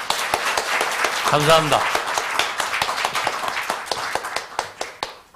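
Audience at a Korean political forum claps in a loose patter of sharp hand strikes, moderately close, running under a man's spoken thanks and continuing after it.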